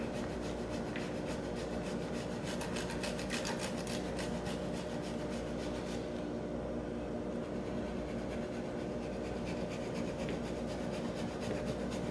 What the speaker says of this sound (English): I'm just using a small zester and grater.